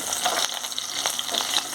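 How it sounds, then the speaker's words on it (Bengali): Thick pieces of tender green mango fry lightly in hot oil, a soft continuous close sizzle with small bright pops and stirring, no talk. "আমগুলোকে একটু হালকা করে ভেজে নেব।"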